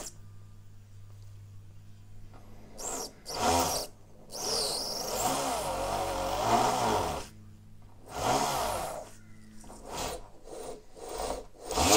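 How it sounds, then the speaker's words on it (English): A small drill bores out the anchor hawse pipe on the stem of a 1/200 plastic model of the Bismarck, heard as short whirring and grinding bursts with pauses between them against a quiet background. "Next thing to do is to re-drill the anchor hawse pipe"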